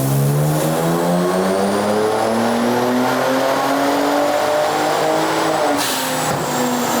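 A tuned Kia Stinger running a JB4 map 6 on full E85 with 21 degrees of timing revs hard on a dyno in 5th gear, engine pitch climbing steadily for seven seconds, loud and close with no talk.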